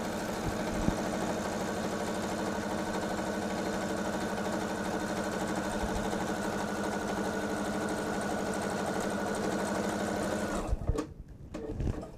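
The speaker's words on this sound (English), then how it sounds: "I have to sew the bottom together at 1/2 inch" A sewing machine stitches the bottom seam of a quilted travel tote at half an inch, a steady close mechanical whirring hum that runs for about ten seconds and then stops abruptly, followed by a few soft handling sounds.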